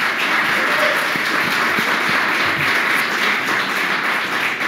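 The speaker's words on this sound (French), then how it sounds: "Je pense qu'ils ont mérité de gros applaudissements." An audience applauds at a renovation event in Strasbourg, a continuous dense crackle of many hands clapping at steady loudness throughout, with scattered low thumps and no distinct speech.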